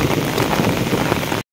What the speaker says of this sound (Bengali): দেখো প্রচুর জোরে বৃষ্টি শুরু হয়ে গেছে আর খুবই মেঘ ডাকছে